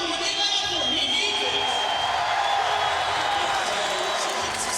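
A large arena crowd in Newark, New Jersey cheers and roars steadily for skateboarder Mikey Taylor during the 2013 Street League Skateboarding World Championship Super Crown final. The noise is dense and continuous, with no one speaking.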